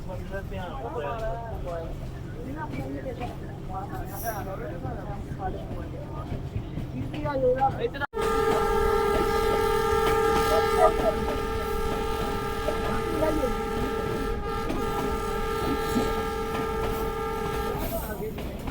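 Sialkot Express on the Lahore to Sialkot line sounding its horn at an unmanned crossing: after a sudden shift a long sustained tonal whistle drones steadily over rumbling carriage noise, with earlier muffled talk and rail noise.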